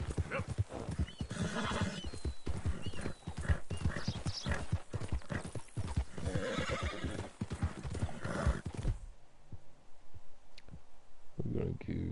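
A horse in Red Dead Redemption 2 being fed a carrot, with close hoof clip-clops, snorts and loud whinnies for about nine seconds, then a quieter stretch of faint clicks and soft rustling, and talk appearing intermittently.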